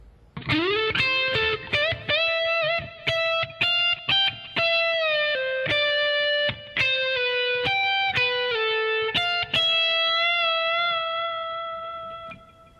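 A bass guitar plays a high-register phrase on the upper strings, with slides and bends, through a distorted, effects-heavy tone; sustained singing notes with quick note changes, close and loud, ending on a fading held note, no talking.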